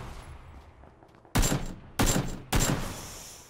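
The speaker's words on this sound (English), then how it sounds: "Shoot the tires up." Three loud, close bursts of gunfire in the PUBG video game as shots are fired at a buggy's tires, each burst sharp and separated by short pauses.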